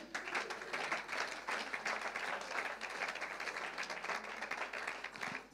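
Sustained applause from an audience, dense clapping at an even level throughout without breaks, heard at a moderate distance.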